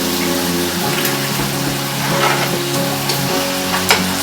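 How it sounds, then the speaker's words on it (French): Beef cooking in a sweet soy sukiyaki sauce, a dense, steady bubbling sizzle close up with faint clicks of stirring and no voices. "le bœuf est en train de cuire dans une sauce sucrée"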